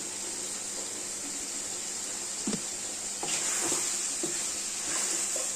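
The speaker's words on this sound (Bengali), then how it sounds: "দেখেন আলু ভাজি, এই যে আলু ভাজি করতেছি দেখেন" Potatoes frying for aloo bhaji in a pan, a steady close sizzling hiss throughout, broken by a few scraping stirs from a spatula.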